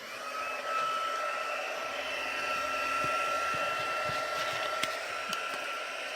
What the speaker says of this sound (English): I'm just going to heat up my tool a little bit ahead of time.